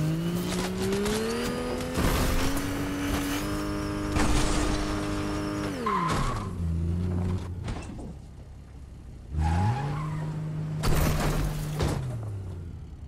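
A car in Fortnite drives with a loud engine that revs and drops in pitch across several gear shifts and speed changes, mixed with tire skids and scraping game effects, all fairly close.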